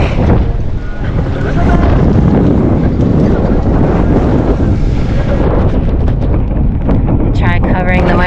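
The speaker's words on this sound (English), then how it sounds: "that wind is really whipping" Strong wind roars and buffets the microphone on the beach at the tip of Lido Key, a loud continuous rush with gusty surges, alongside the wash of surf.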